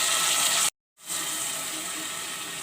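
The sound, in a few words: pouring a little water into pan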